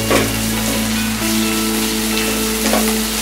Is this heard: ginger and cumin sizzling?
yes